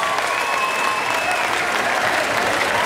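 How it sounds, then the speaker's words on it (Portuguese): Audience at an anime convention stage show applauding steadily, a dense and loud wash of clapping from a sizeable crowd that holds even throughout. "agora vocês batem palmas"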